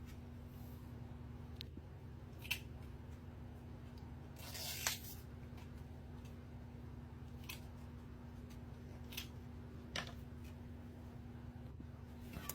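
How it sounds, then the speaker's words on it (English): Faint, sparse snips from scissors trimming artichoke leaves, a few isolated cuts spaced seconds apart over a low steady hum, close but quiet. "I'm going to grab a pair of scissors and just trim them."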